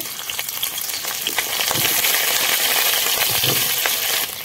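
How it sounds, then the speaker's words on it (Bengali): Paneer pieces frying in oil, with a loud, close sizzle that swells midway and light clinks of a spatula moving the pieces. No voices. "আমি কিন্তু খুব ভালো তেল দিয়ে দিব, একটু ভেজে নেব।"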